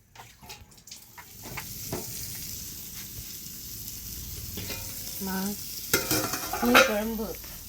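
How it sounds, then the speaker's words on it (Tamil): Fish curry with raw mango simmers in a pot, making a continuous soft bubbling hiss, with scattered metallic clinks and a few louder utensil knocks toward the end. "மாங்காயெலாம் போட்டு குழம்பு கொதிச்சிட்ருக்கு"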